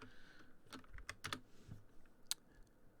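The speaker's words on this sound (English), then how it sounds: "Extensions, you just type in MetaMask Firefox" A computer keyboard is typed on in a short run of faint, scattered key clicks, close and quiet, with a few slightly louder taps and no talking.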